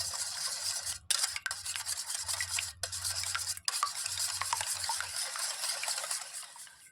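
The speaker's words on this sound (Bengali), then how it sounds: "ডিম দুটো আমি এবার বাটির মধ্যে ফাটিয়ে নেব একটা হ্যান্ড উইচের সাহায্যে একটু ভালো করে ফেটিয়ে নেবো" Two eggs beaten in a bowl with a hand whisk for rice-flour pitha batter, a rapid continuous scraping and rubbing sound up close, pausing briefly a few times, with no voices.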